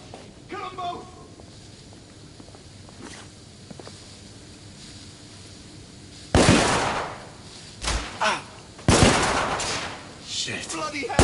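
Gunfire in The Order: 1886, loud bursts of shots with sharp cracks and heavy booms arriving in several clusters after a quieter stretch, close and intense, with voices of game characters shouting among them.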